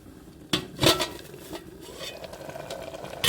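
A ladle turns punarnava greens in a pan as they cook, giving a few sharp metallic scrapes and clinks near the start over a faint sizzle, then quieter stirring.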